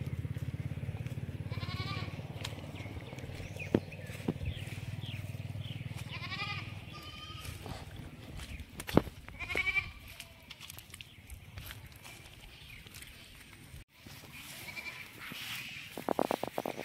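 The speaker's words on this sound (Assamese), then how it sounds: "এতিয়া আমি ছাগলী আল দিবলৈ আহি আছোঁ।" Goats bleat in short wavering calls while being led out to graze in rural Assam, several voices spaced across the stretch at moderate distance, with a low rumble at the start and scattered thumps and rustles around them.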